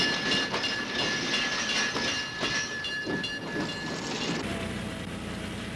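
A company-owned railroad's ore train, bound for the smelter with copper concentrate and precipitate, rumbles past with hissing and clattering wheels, fairly loud and steady, then eases slightly near the end.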